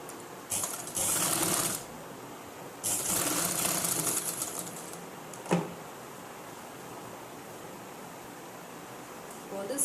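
Sewing machine stitching a school uniform collar: two whirring bursts of stitching over a steady hiss, with a sharp click in between.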